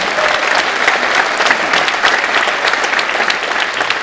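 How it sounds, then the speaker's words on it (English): Live audience at a Semi Permanent design talk breaks into loud, sustained applause, dense clapping filling the room steadily from start to finish with no break. "Let's give her a round of applause."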